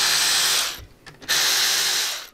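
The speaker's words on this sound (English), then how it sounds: "Two bolts down here, we're going to pull those and then unplug the headlight from the top" A power tool whirs steadily while removing the headlight assembly bolts on a Harley Low Rider motorcycle, pauses briefly with a few ratcheting clicks, then spins up again loud and close.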